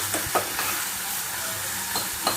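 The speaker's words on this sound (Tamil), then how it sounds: "இதையும் சேர்த்து நல்லா வதக்கிக்கோங்க." Chopped tomatoes and chilies sauté in hot ghee with a steady close sizzle, broken by a few sharp scrapes and knocks of a spoon stirring the pan.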